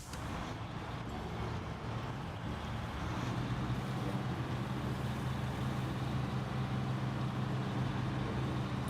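GMC Brigadier 8000 truck in a driving video game, its engine giving a steady low drone that holds level and close throughout, with a faint windy hiss on top and no talking.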